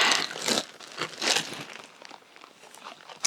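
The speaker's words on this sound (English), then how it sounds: "So let me just unwrap those." Plastic packaging around new Gymshark leggings is unwrapped, giving close crinkling and crumpling bursts in quick succession, louder at first and then softer rustles, with no voice.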